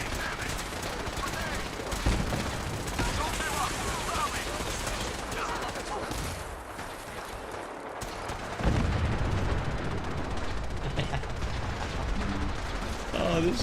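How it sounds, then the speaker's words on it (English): Gatling laser fire crackles through a Fallout 4 video game battle, with continuous rapid bursts and explosions forming a dense, loud barrage throughout. "that's a Gatling laser."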